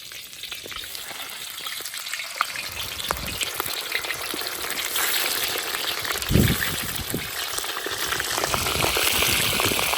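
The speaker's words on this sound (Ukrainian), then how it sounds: "Розігріту олію ложимо ребра." Pork ribs sizzle and crackle in heated oil inside a cauldron (kazan) while plov is being prepared, a loud, steady frying hiss with popping spatters and a brief stirring clatter partway through, without any talking.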